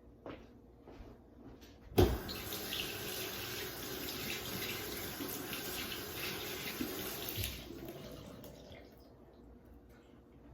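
A kitchen tap is opened with a sharp clunk and runs in a steady, close splash over rinsing hands for several seconds, then is shut off and the flow fades to quiet.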